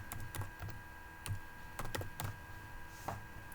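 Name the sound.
typing a ping command on a computer keyboard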